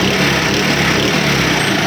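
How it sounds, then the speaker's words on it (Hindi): Motorcycle engine idling with its exhaust silencer blocked by hand, giving a dense, constant close-up mechanical drone with no breaks. "अब इंजन की आवाज़ सुने।"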